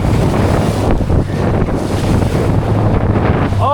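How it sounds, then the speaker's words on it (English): Heavy wind roars across the microphone over the constant churning wash of choppy, whitecapping ocean waves, loud and close, with no talking. "the waves are getting bigger out here. They're white capping."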